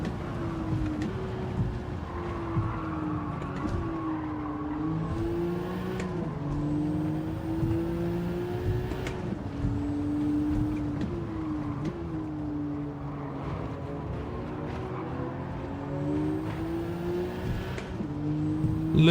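Race car engine in a racing video game on a dark, wall-lined Tokyo street circuit, droning steadily with rising and falling revs through gear changes, loud and continuous with no talk.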